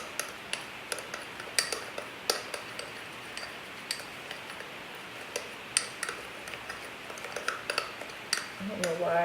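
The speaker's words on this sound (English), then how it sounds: "I don't know why it's taking so long to mix this." A face mask being stirred in a small bowl, with light irregular clicks and taps of a utensil against the bowl's sides, quiet and close, growing busier near the end.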